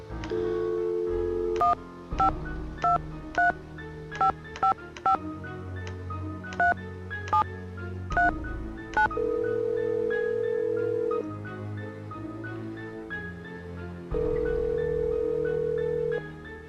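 Push-button telephone dialing in a Nancy Drew video game: a rapid run of distinct keypad tones, each brief and clean, with a few longer steady tones, all loud and alone with no voices.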